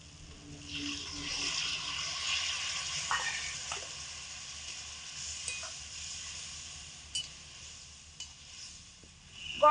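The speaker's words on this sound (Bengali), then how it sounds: "গরম জল দিয়ে দিয়েছি।" Hot water poured into a pan of sizzling vegetable stalks (data) and potatoes after spiced frying, giving a steady broadband hiss and bubbling with a few sharp clinks of utensil near the end.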